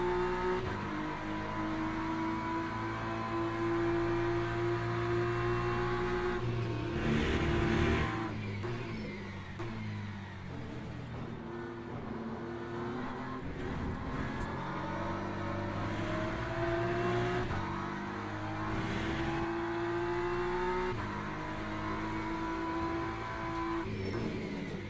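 A race car engine in Le Mans Ultimate drones and revs in the slipstream of another car. The loud tonal engine note climbs and drops through gear changes, with whooshing swells of wind and passing noise and no voices.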